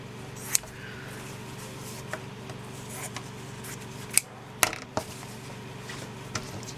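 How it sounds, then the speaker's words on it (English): Several sharp scissor snips at irregular intervals, close by, over a low steady background hum with no talking. "I kind of take my scissors and cut that square out"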